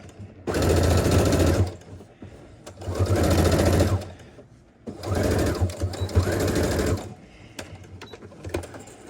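A sewing machine stitches a garment seam on a McCall's 8505 pattern in three loud bursts of fast, even whirring, with short quiet pauses between runs and a fainter stop-start at the end.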